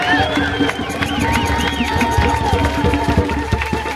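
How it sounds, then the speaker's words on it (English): Crowd applauding and cheering at a Janelle Monáe and Wondaland 'Hell You Talmbout' gathering in Portland, a steady roar of claps and shouts filling the whole stretch with scattered voices and whistles mixed in. "Make a round of applause for yourselves."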